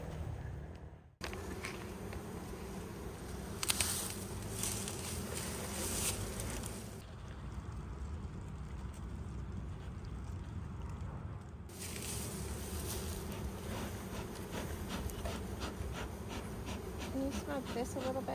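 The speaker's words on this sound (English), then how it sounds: "It's like a pile of bees." A dense, buzzing swarm of bees hums continuously close by, the drone rising and falling slightly, with brief breathy sounds mixed in.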